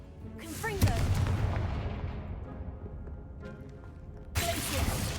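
Confringo fire spell cast in a Hogwarts video game, a sharp booming blast that decays over a couple of seconds, followed by a second burst of explosive noise near the end, with speech-like sounds mixed in.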